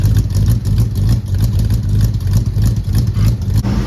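A 1964 Dodge Dart GT convertible engine runs steadily at a raised cold idle, close and loud, with a continuous low throbbing rumble and no voices.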